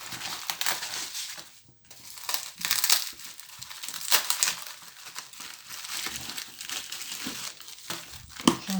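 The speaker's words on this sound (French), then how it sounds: "Allez, on commence à déballer." Plastic packaging from a Temu haul crinkles and crumples up close as it is unpacked, with continuous irregular rustling and a few sharper crackles, no talk.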